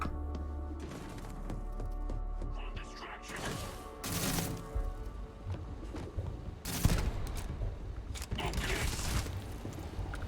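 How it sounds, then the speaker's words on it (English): Pistol shots in the video game Starfield, a few sharp, loud reports with crashing impacts over game music and mechanical clatter, close and punchy. "Trying out this pistol."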